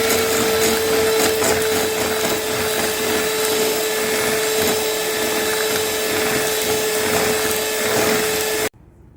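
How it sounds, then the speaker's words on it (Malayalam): An electric mixer whirs loudly and continuously as it beats red velvet cake batter with oil, holding a steady high drone before cutting off just before the end. "ഓയിലും കൂടെ ചേർത്തിട്ട് നമുക്കൊരു 30 സെക്കൻഡ്സ് അടിച്ചു കൊടുക്കാം"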